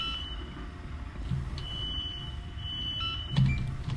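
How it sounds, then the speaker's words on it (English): A steady electronic fire alarm tone in a video game holds through the whole stretch, with a couple of sharper beeps standing out against a low background hum. "I'm going to turn off the fire alarm, though."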